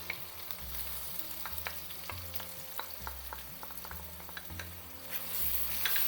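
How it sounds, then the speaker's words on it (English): Ginger garlic paste frying with browned onions and green chilies for chicken mince cutlets: a crackling sizzle with rhythmic stirring strokes and a low pulsing hum beneath, near and steady, no speech. "And now fry the ginger garlic paste for 2 to 3 minutes"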